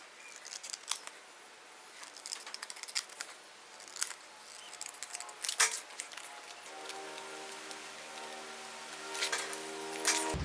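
Sheet metal from a rusted car body panel being cut along a scribed line, a fast irregular run of crisp snipping and rasping that carries on for about ten seconds, close and alone without speech.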